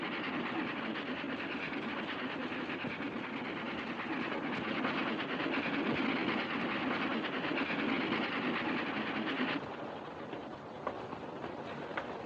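A train runs steadily while heard from inside a private railway car in a 1943 western, a continuous low rumble with faint rhythmic clatter that drops slightly in level near the end.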